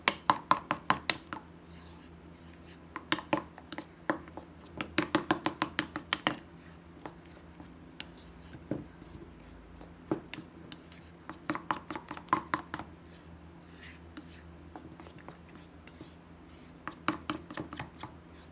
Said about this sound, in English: you want to mix it, get some oxygen in there, and get the lumps of flour out